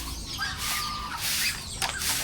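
Native chickens on a Filipino farm clucking in short, fairly loud calls over a busy, noisy outdoor background, with a brief sharper burst near the end.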